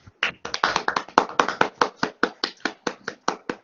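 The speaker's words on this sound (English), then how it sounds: "they deserve a huge round of applause for their active participation" An audience at a contest grand finale claps for the contestants, a brisk run of distinct, close handclaps from a small group that stays fairly even before thinning toward the end.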